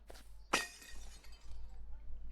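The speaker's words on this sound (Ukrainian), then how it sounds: "Знов хріначу його скло." Window glass smashes in the video game Hello Neighbor: one loud, bright shatter followed by a trail of tinkling shards over a low background hum.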